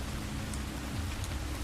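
Steady rain falls as a dense, even hiss with soft scattered drops, continuous and fairly faint throughout.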